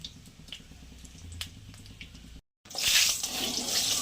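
Water poured into ground bottle gourd leaves while making lau pata bata, a close, splashy gush that bursts in after a brief silence, following softer kitchen clatter.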